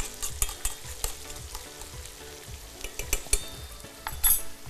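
Finely grated onion sizzling in melting butter in a pan for cream of mushroom soup, stirred with a utensil in quick scraping strokes and occasional clinks, close and steady with no talk.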